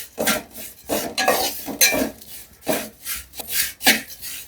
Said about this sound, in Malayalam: നമുക്ക് അവലൊന്ന് ചെറുതായിട്ട് ഒരു 2 മിനിറ്റ് ഒന്ന് വറുത്തെടുക്കാം